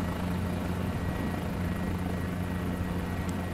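A Guimbal G2 helicopter in Microsoft Flight Simulator 2020 drones steadily and loudly close by, its rotor and engine hum holding an even, continuous rumble with no talk over it.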